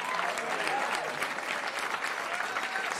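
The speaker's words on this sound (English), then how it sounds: "Ladies and gentlemen, let's give it up for this wonderful band" Audience applause for a jazz band at a jazz club celebration of Eddie Harris, steady close clapping with some crowd voices mixed in.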